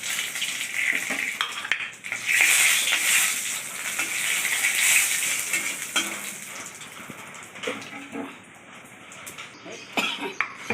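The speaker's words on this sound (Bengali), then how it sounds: "সেই তেলের মধ্যেই আমি 5 ফোড়ন দিয়ে দিচ্ছি, একটা তেজপাতা দিয়ে দিলাম আর 5 ফোড়ন।" Panch phoron spices and a bay leaf sizzling in hot oil in a pan, a bright continuous frying hiss with occasional utensil clatter, close and without speech.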